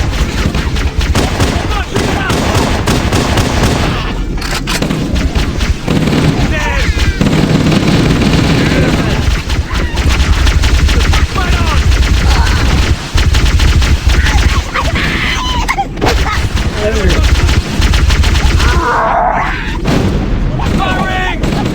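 Gunfire from a Halo: Combat Evolved battle against the Covenant, continuous loud rapid shots and booming blasts mixed with game music and shouting soldiers throughout.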